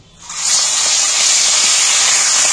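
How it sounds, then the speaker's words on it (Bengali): Chicken pieces dropped into hot oil left from frying potatoes burst into a loud, sustained sizzling hiss that swells up within the first half second and holds steady. "মাংসগুলো আমি একটু তেলটার মধ্যে ভেজে নেব।"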